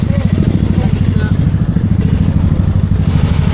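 A motorcycle idles at a rainy nighttime campsite in Tanay, Rizal, its engine pulsing low and steady and quite loud, with voices over it.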